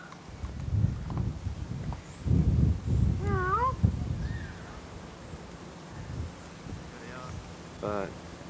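A cat gives a few short meows, fairly close, while people talk quietly in the background.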